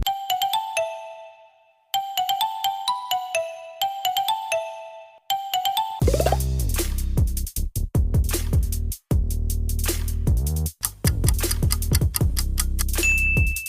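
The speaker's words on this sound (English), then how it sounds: "It's Lava." A Lava smartphone ringtone: a bright, tinkling electronic melody of repeated note phrases with short pauses, then a fuller, louder musical section with bass and dense chiming tones, heard clearly with no talking.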